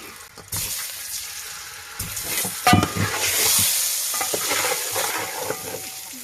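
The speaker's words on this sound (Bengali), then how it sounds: "ডিমটাকে ভাজার জন্য দিয়ে দিলাম।" An egg seasoned with salt and turmeric frying in oil, giving a moderate crackling sizzle with scraping stirs and a few louder bursts.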